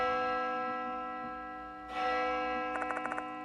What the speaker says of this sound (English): That bell, again.